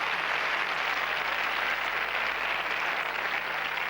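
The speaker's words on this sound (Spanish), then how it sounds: "vamos a obsequiarle a este caballero con un aplauso" A television studio audience on a 1993 Spanish New Year variety show claps in a continuous, uniform hiss of applause, steady and fairly distant, with a low hum beneath.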